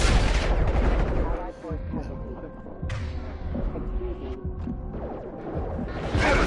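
Gunfire in the video game Mass Effect 2 on Veteran difficulty, dense bursts of shots and impacts running through a loud combat mix of music and effects, with brief lulls between volleys.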